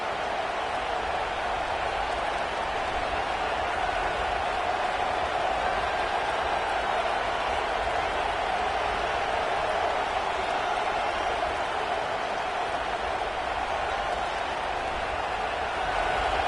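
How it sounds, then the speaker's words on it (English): A stadium crowd at a football game roars to rally the defense for a red zone stop, a dense, steady wall of cheering and noise that holds without a break. "This crowd is trying to inspire this defense to make a big red zone stop"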